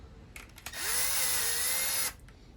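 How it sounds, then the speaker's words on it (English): An electric screwdriver whirs in one rising burst of a little over a second, tightening clamps on a cafe racer motorcycle engine, close and alone with a brief spin-up and abrupt stop. "So I just use electric screwdriver to go down."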